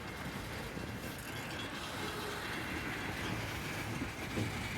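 A tank train rolls along the rails at a distance, a steady broadband rumble and rattle of wagons with faint clickety-clack running throughout and no voices.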